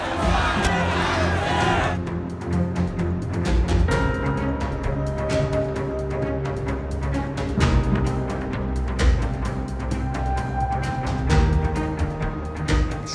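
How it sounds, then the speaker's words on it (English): Large crowd at the ancient Olympic Games in Olympia, a dense roar of many voices with shouts and cheers rising and falling, heard under steady music throughout. "Huge crowds were attracted to Olympia for the Games."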